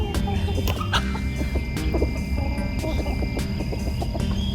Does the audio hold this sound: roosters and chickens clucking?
yes